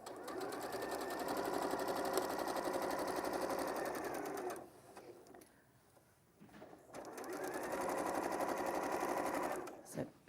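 A sewing machine stitches the pocket line on a coat in two long, steady runs with a quiet pause between, heard close with faint voices in the background.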